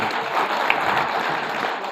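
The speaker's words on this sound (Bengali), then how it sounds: "জোরে একটা হাততালি দিয়ে যান" Audience applause at a health lecture on stem cell nutrition therapy, steady dense clapping from a crowd that carries evenly for a couple of seconds with no talk over it.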